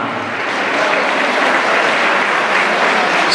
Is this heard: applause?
yes